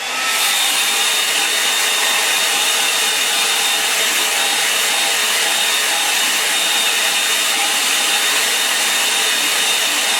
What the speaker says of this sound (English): I'll just give that a bit of a help with the hairdryer